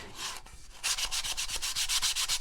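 Rapid rhythmic rasping of sandpaper on wood, softer at first, then louder, steady strokes up close, with no voices.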